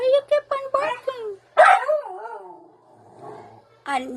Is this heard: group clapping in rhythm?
no